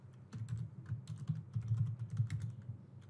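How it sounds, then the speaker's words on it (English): Brisk typing on a computer keyboard, a continuous patter of close keystrokes with an uneven rhythm and no voices. "here let us type a random message"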